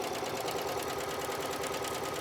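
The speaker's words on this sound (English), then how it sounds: "Keep stitching." Sewing machine stitching a pillow seam with a faux cording edge, a continuous fast rhythmic mechanical whir, fairly faint and steady, without talk.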